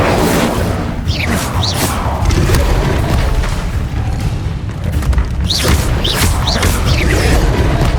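Incendio fire spell cast in Hogwarts Legacy, a loud booming burst with crackling whooshes repeating over a steady rumbling game backdrop, several blasts across the stretch.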